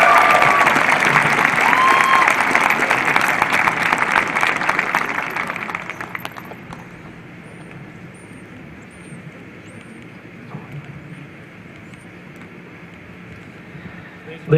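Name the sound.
audience applause for scholarship recipient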